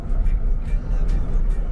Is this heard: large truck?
yes